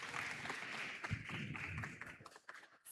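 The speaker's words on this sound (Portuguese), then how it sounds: "Palmas para eles, pessoal." Audience applause at a corporate stage event on generations at work, with a soft, fairly distant patter of hands clapping that carries on steadily and thins near the end, with faint murmur beneath.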